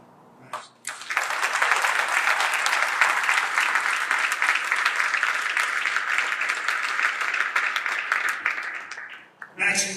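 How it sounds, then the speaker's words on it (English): A crowd at a military change of command ceremony for space forces breaks into loud, sustained applause lasting about eight seconds, steady and dense before tapering off, with a brief bit of speech at the start and end. "Let's have a round of applause for Max."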